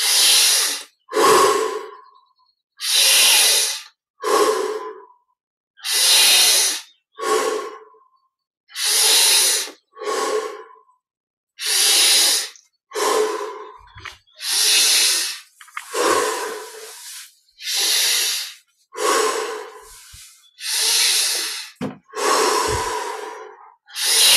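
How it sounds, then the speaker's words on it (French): Deep, slow breaths repeat in a steady cycle, each a long airy inhale through the nose followed by a forceful exhale through the mouth, loud and close with brief silences between, during a guided energization meditation. "Inspire par le nez, expire par la bouche."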